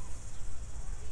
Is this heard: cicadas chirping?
yes